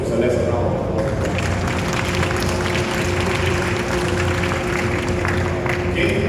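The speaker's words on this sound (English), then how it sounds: "let's give Celeste a round of applause" Audience applause at a Riway Philippine star meeting honoring Celeste, a steady, dense wash of clapping filling the room for several seconds, with a low hum of crowd noise and possible chatter mixed underneath.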